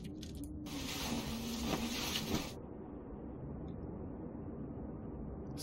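Blizzard wind blows in The Long Dark, a steady low rush of wind with a loud hissing gust over the first few seconds before it settles into a constant, muffled drone.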